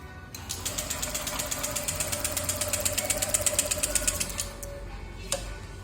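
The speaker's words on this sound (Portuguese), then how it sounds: "Dá a partida nela." Honda PCX150 scooter engine starts up and runs with a fast, steady mechanical ticking rhythm, fairly close, before cutting off near the end with a brief clunk; the exhaust is suspected of being clogged.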